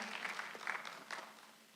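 A church congregation at a Korean Sunday worship service claps briefly in scattered bursts, fairly faint and distant, tapering off toward the end.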